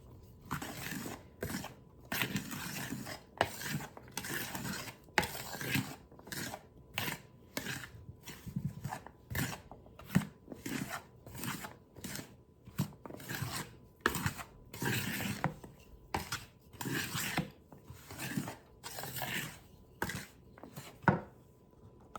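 Fruit being stirred into homemade biscuit dough, heard as close, rhythmic scraping and rubbing strokes repeating steadily with short pauses, no talking.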